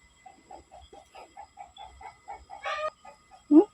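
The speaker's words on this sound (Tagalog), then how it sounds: "gutom na ang mga manok" A run of steady, close clucks from hungry chickens, repeated at a quick even pace, then a louder squawk at the end.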